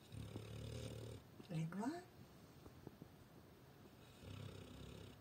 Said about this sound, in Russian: И вот под такой милый храп я должна была снимать видео.